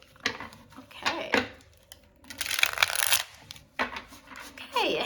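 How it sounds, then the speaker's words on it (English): A Little Scarabeo tarot card deck being shuffled by hand in several bursts of crisp riffling and card slaps, fairly close and moderately loud, with brief pauses between bursts. "it has a nice shuffle"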